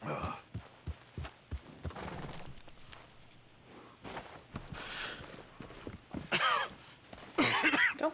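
A character coughing in Red Dead Redemption 2, several rough, hacking coughs in irregular bursts over game ambience, with hoofbeat-like thuds early on and louder coughing fits near the end.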